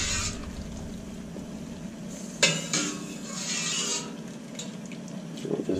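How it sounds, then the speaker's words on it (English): Utensil stirring pasta carbonara with Pecorino Romano and Parmigiano-Reggiano in a pot, soft wet swishing with a few metallic clinks against the pot, fairly quiet and close, no talk. "All right, so we're gonna stir this up, give it a mix."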